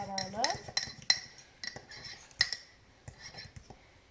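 A utensil clinks and scrapes against a mug while stirring mug cake batter of coconut flour, baking powder and liquid stevia, giving quiet, irregular taps and rattles with a faint voice briefly audible.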